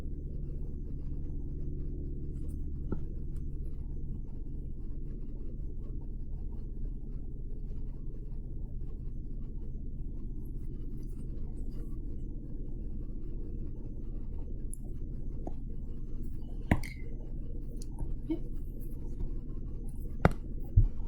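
A pen scratches quietly over paper while sketching a graph of a trigonometric function, the faint strokes sitting over a low steady room rumble, with a few soft taps near the end.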